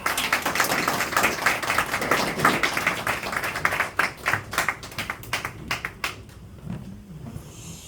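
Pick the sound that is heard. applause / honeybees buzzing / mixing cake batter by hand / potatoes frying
applause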